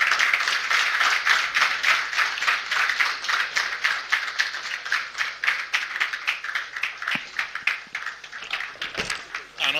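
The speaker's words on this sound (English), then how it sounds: "Another round of applause for His Excellency, the Executive Governor of Kaduna State" An audience at a Kaduna State roundtable event applauds the state governor with sustained, crowded clapping at a fairly strong level, and a voice is heard briefly near the end.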